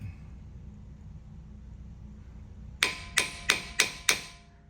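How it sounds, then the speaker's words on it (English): Five quick metallic taps ring out on a 2012 Nissan Altima front brake caliper during bleeding, evenly spaced and sharp, following a stretch of quiet background hum. "Just tap on a little bit to help get the air out"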